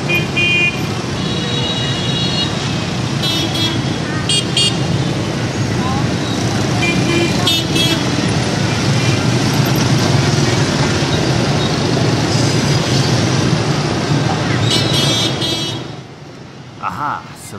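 Hanoi street traffic roars loud and close, with cars and motorbikes passing in every direction and frequent short horn toots and honks over a dense, continuous road noise that drops away at the very end.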